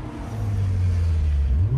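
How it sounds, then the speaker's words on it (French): A car engine in The Crew revs up and holds a steady, loud drone that rises slightly near the end, with no one speaking over it. "ce bruit au niveau des bruits de bagnole. C'est vachement sympathique."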